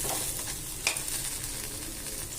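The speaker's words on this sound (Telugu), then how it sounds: "ఘాటు ఎక్కువ ఉంటుంది అల్లంలో, ఇలా ఫ్రై చేసుకోవాలి" Sliced ginger frying in hot oil in a pan gives a steady, close sizzle with a soft clink of stirring midway.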